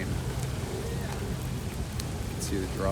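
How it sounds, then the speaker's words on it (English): Steady rain hisses outdoors near Washington Square in New York City with a broad wash of noise, and a voice briefly murmurs over it. "it's actually raining."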